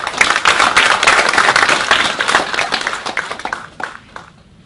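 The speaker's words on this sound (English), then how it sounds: "I think the NANMA truly deserve a round of applause" Audience applause at an international awards presentation ceremony in Oslo, Norway: many hands clapping in a dense, lively burst that holds steady, then thins and fades away toward the end, with no talking over it.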